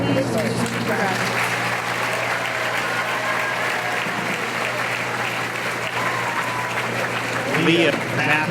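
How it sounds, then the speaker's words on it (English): Graduation ceremony applause for senior graduates at a high school in 2017, a sustained, loud crowd clapping in a large hall that swells near the end. "Round of applause, please, for the senior graduates."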